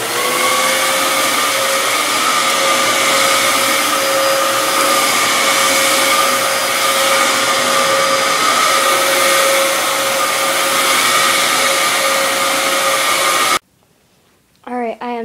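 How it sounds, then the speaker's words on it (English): A vacuum cleaner drones loudly and steadily with a high whine, then abruptly cuts off, leaving near silence and a brief sound at the end. "let's start up the vacuum."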